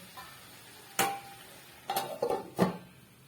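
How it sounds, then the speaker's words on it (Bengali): Prawns fry with a little sugar in a pan, with a soft sizzle underneath and several sharp clinks and scrapes of a utensil against the pan, close by and with no talking. "এবার এটাকে আর কিছুক্ষণ ভেজে নেব।"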